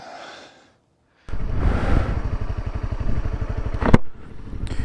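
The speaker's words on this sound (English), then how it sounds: "I'm gonna bring you in on my motorcycle" A motorcycle engine rumbles steadily up close with a bumpy, rattling texture on a steep, rough dirt road near Bisbee, Arizona, preceded by brief breathy noise and a moment of silence.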